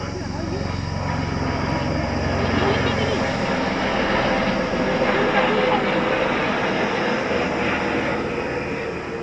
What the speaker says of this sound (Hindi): हेलीकॉप्टर जा रहा था, जैसे मैं बात कर रही थी, और इतने नजदीक से गया हेलीकॉप्टर ना